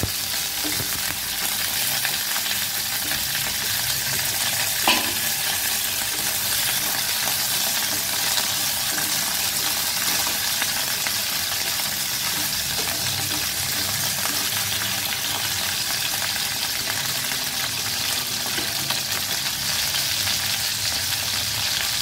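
Steady hissing sizzle of crab frying in hot oil in a pan, continuous and fairly loud throughout, with occasional faint clinks.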